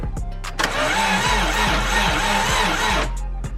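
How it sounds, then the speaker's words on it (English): An old Subaru engine cranks over on the starter during a compression test, a loud, rhythmic chugging of about six even pulses over roughly three seconds, with no voices. "Our goal here is to turn it over a couple times and get that dial to spin"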